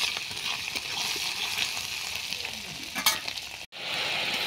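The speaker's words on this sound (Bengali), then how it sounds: "শুকো মাছটাকে নুন হলুদ দিয়ে ভেজে নিচ্ছি।" Dried fish frying in oil with salt and turmeric, a dense continuous sizzle with occasional stirring scrapes, cutting out abruptly for a split second before resuming.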